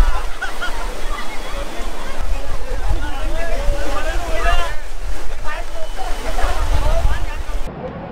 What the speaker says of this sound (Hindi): पानी का फ्लो है वो देखो कितना ज़्यादा है